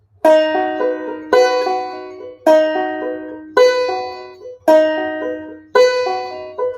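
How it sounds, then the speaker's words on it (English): A banjo plays a repeating finger roll six times in steady rhythm, each pass opening with a strongly accented note followed by lighter plucks. "what happens if you play the first note of the roll strongly, it'll sound like this."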